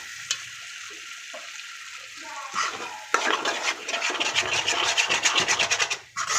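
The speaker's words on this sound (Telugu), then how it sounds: "ఇప్పుడు ఈ టమాటోస్ వేసాం కదండి, ఇప్పుడు బాగా మొత్తం మళ్ళీ మిక్స్ అయ్యే విధంగా మళ్ళీ కలుపుకుందాం ఒకసారి" Tomatoes stirred into frying masala for a stuffed brinjal curry: a soft sizzle at first, then a run of quick rhythmic scraping strokes of a spoon against the pan, close and fairly loud.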